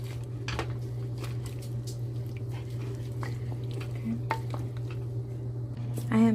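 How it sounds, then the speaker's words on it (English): Prepped cut vegetables stirred into a pot of Jamaican red stew peas, giving soft scraping and squishy stirring sounds against a steady low kitchen hum, with a brief clatter near the end. "Let's give this a stir."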